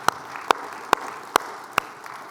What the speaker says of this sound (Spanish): denle un aplauso fuerte por esa palabra impresionante